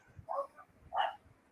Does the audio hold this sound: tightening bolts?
no